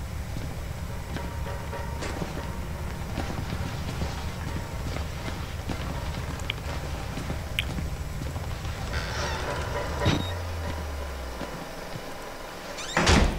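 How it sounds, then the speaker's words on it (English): A door shuts in the horror video game Outlast, a dull thud amid steady low ambient rumble and scattered footstep-like knocks, followed by a short low droning tone. "Door behind me just in case."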